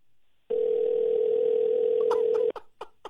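Steady telephone tone of an unanswered call, a loud continuous hum holding for about two seconds before cutting off, followed by a few short clicks and sounds.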